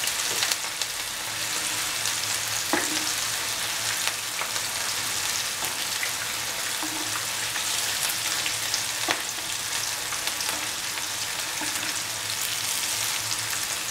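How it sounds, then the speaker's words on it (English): Mutton meatballs sizzle steadily in a pan, with a continuous frying hiss broken by occasional soft knocks and scrapes as they are turned. "Turn over the meatballs from side to side."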